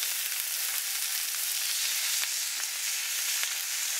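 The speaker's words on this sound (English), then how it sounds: "You just want to seal the steaks" Steaks searing in a very hot pan, a loud, steady hiss of sizzling fat with scattered small pops and crackles, close and continuous.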